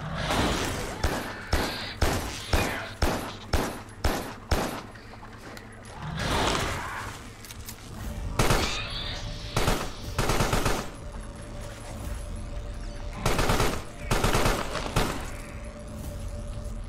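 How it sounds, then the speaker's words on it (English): Bursts of automatic weapon fire in the video game Carrion Carnage, with rapid repeated volleys over the first several seconds and then heavier scattered shots and thuds that stay loud and close throughout. "Guys with the automatic weapons."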